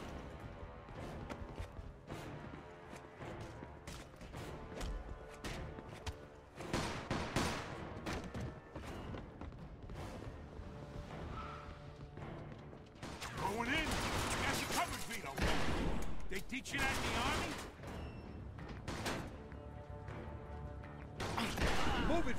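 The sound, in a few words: gunfire in video game Mafia 2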